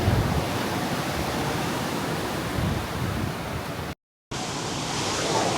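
Steady broadband wash of surf from waves rolling into a rocky cove, continuous and fairly loud, broken by a brief dropout before the roar resumes.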